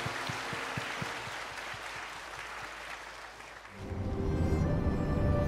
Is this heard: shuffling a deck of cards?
no